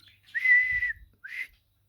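Two short whistled notes, a long steady tone followed by a brief second one after a pause, close and clear with no talking.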